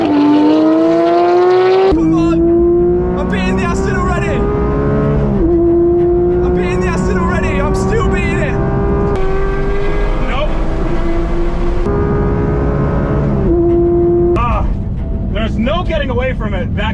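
A Porsche GT3 races another car, its engine note climbing loud and close through repeated gear changes, each upshift dropping the pitch before it rises again, with a second car's engine audible underneath.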